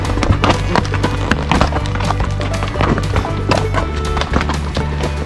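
Hooves of pack horses clop and thud unevenly on rough mountain ground as they climb in the Sawtooth Mountains, with occasional knocks and scuffs, close by and steady throughout.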